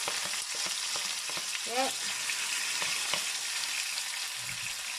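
Tomatoes go into a hot pot of frying scallion and garlic, with a steady close sizzle, stirring scrapes and a brief spoken word over the crackle.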